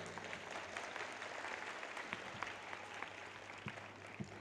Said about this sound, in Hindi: अपने लिए जोर से ताली बजाओ।